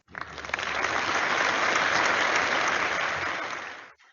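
Applause for an honorable award winner in social and behavioral sciences at a 2020 virtual veterans' recognition ceremony swells quickly, holds as a dense, even wash of clapping, then cuts off abruptly.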